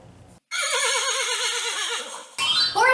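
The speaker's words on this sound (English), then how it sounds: "Horsey! Correct, Callie." A horse gives a loud, close, wavering neigh lasting about two seconds, standing alone before a burst of other noise.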